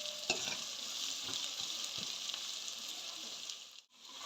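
Onions frying in a pan with crushed ginger and garlic for tomato egg rice, a steady close sizzle with occasional stirring scrapes and no talk.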